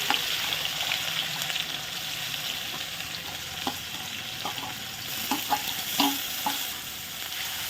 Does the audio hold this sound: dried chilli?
yes